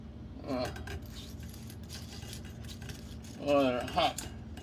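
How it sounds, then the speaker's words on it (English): Old 1898 Indian head pennies rattle and clink in a metal strainer as they are rinsed, two short metallic jangling bursts separated by a quiet pause, close and moderately loud with no talk. "I'm going to take them out of the strainer and rinse them."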